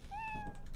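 A cat meows once in the video game Lethal Company, a single clear, moderately loud rising-then-steady meow under a second long.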